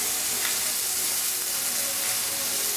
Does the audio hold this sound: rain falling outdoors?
no